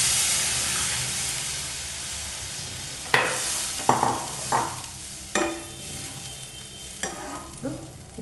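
Tamarind juice poured into a hot tempering of dried red chillies and pepper for a rasam, bursting into a strong steady sizzle and hiss, with sharp clinks of stirring and spoon taps at intervals.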